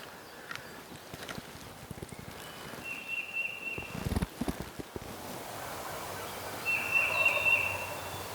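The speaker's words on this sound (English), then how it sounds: "I think that turkey that we're hearing gobble is down here, right there." A wild turkey gobbles twice in the Virginia mountains, each call a faint, distant rattling burst over a quiet outdoor background, with rustling and footstep-like crunches in between.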